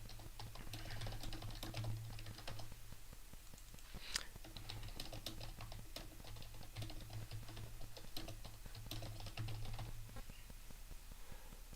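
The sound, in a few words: typing on a computer keyboard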